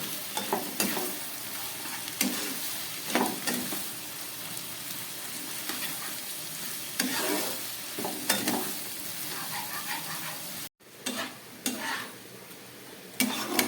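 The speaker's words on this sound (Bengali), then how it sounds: "খুব ভালো করে গ্যাস কমিয়ে আমি বিনস, গাজর, ক্যাপসিকামটাকে ভেজে নিলাম" Beans, carrot, capsicum and peas fry over low heat in a pan for Gobindobhog rice pulao, giving a dense continuous sizzle with intermittent scraping stirs and one brief pause.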